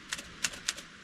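Keys strike sharply on a vintage Underwood manual typewriter, a handful of crisp clacks at an uneven pace, close by and fairly quiet with no voices.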